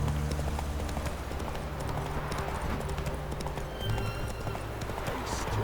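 Geralt's horse Roach gallops in The Witcher 3 with a rapid, steady clip-clop of hooves, close and loud over continuous game ambience.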